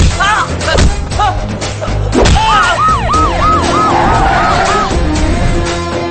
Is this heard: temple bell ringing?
no